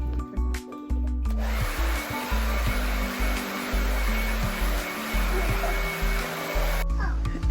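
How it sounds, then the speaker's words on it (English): A hair dryer blow-dries a girl's freshly washed hair, roaring as a steady, loud airflow for several seconds, then cutting off near the end, with some faint handling noise before it starts. "So now we're about to blow dry it."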